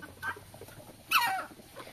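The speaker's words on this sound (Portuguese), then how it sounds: "A galinha aqui já foi pro ninho dela." A hen clucks inside a chicken coop, two short faint calls followed by a louder, fuller cluck near the middle, set against quiet farmyard background noise.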